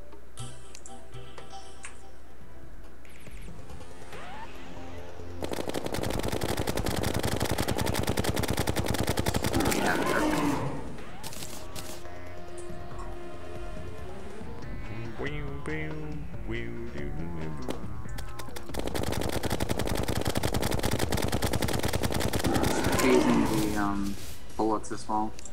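Rapid, dense gunfire from the game Terraria rattles in long bursts during a boss fight, loud and sustained with brief pauses, while players talk over it.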